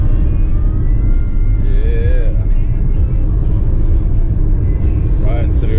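A car travels along a road through the North Carolina foothills, a steady loud rumble of engine and tyres throughout, with music faintly audible inside the cabin.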